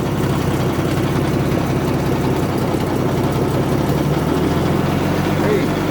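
A Chrysler car engine idles steadily with a deep, continuous low rumble throughout, and a person talks over it.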